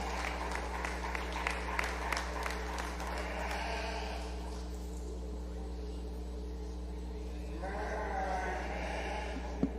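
Audience clapping fills a livestock show ring at a 2020 sheep show, steady and broad, with sheep bleating faintly behind it and a low hum throughout.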